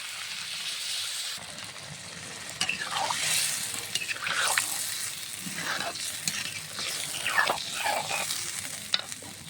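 Water goes into a pan of frying puti fish and taro curry, and the hissing sizzle swells with sloshing and the scrape and clink of stirring, close and steady with no voices.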